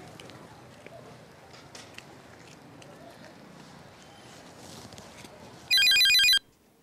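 A telephone ringtone on an outgoing call, a short loud electronic trill near the end after quiet background ambience.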